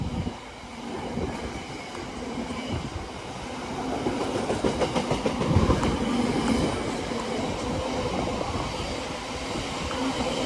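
A Class 70 locomotive rumbles past nearby on the Chiltern Main Line with a heavy, continuous roar and rhythmic clatter of wheels on rails, building slightly in loudness midway.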